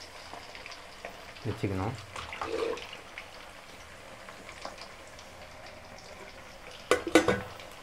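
Chicken kebab pieces with curry leaves frying in oil, a soft continuous sizzle broken by a few louder stirring clatters, with a voice speaking briefly.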